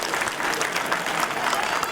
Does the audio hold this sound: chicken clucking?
no